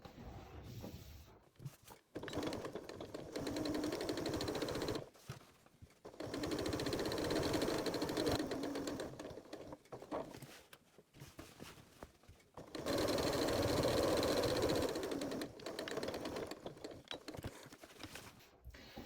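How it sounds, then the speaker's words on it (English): A home sewing machine topstitches around the edges of a tea towel with a long stitch, running in three steady whirring bursts separated by short pauses, close and continuous. "The last step is to top stitch, and I do that from this side"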